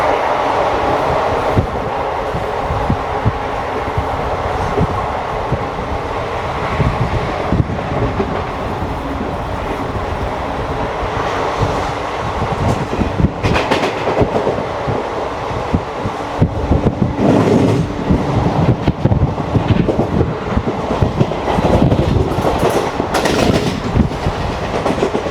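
The 22136 Renigunta–Mysuru SF Express runs on its tracks with a loud, steady rumble and a rhythmic clickety-clack that goes on without a break.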